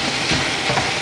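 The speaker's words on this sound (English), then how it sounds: "let's add in that chicken sausage. Just give it nice stir." Chicken sausage and tomatoes stirred in a hot frying pan while cooking a plantain frittata, giving a brief, close burst of sizzling with soft scraping from the stir and a small clink near the end.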